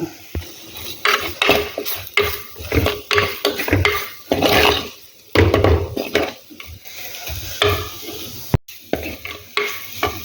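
Spice powders are sautéed in a pan for a Kerala-style roasted-coconut fish curry (varutharacha meen curry). Close, rhythmic spatula scrapes and clacks run over a steady sizzle, with no one talking.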